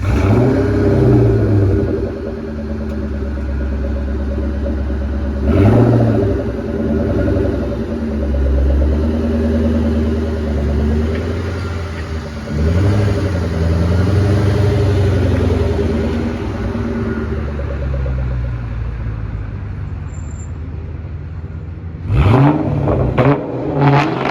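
Ford Mustang Mach 1 engine rumbling loudly while driving, with a deep steady drone that swells in several revs and ends in a cluster of sharp bursts.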